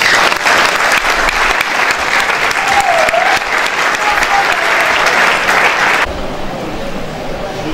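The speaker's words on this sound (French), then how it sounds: "Acclame pour Jésus-Christ." A church congregation applauds for Jesus Christ at a Sunday service, dense continuous clapping filling the room for about six seconds before dropping to a softer, thinner patter of hands with faint voices mixed in.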